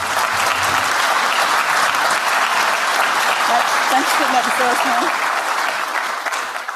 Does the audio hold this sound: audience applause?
yes